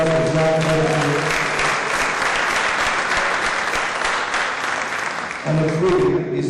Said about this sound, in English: Let's give him a round of applause for Jack Butterfield.